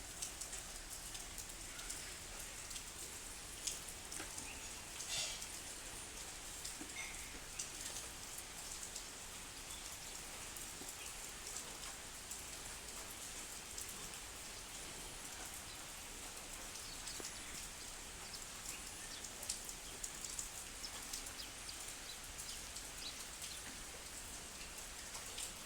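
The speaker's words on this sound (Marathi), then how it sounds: "पाऊस पडत आहे." Steady rain falls near a temple in green surroundings, an even, continuous patter of drops on surfaces with occasional louder drips, soft and close, and no voices.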